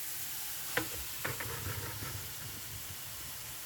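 Onions frying and being stirred in a pan, a steady broadband sizzle with a sharp scrape of the utensil and a few softer stirring strokes after it.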